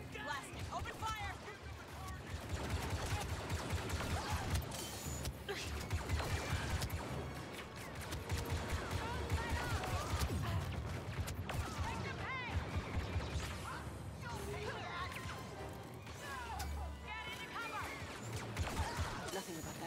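Blaster gunfire in Star Wars Battlefront II during a firefight in a plaza: continuous rapid zapping shots and impacts, dense and busy throughout, layered with battle noise and game effects.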